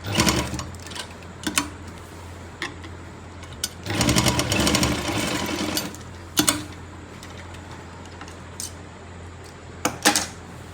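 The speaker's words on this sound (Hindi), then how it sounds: "अब दोनों को आपस में मिलाएंगे, बेल्ट और इलास्टिक को, और यहाँ पे स्टिच कर देंगे" Domestic sewing machine stitching a belt and elastic together on palazzo pants, with short bursts of rapid mechanical chatter separated by pauses, one longer run in the middle, close and clear with no talking.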